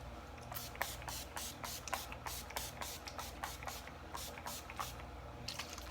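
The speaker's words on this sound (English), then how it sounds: "We just need some setting spray to set the face." Rapid bursts of spray hiss out in a quick rhythmic series, over a dozen short pumps close by, with a brief pause before a final couple.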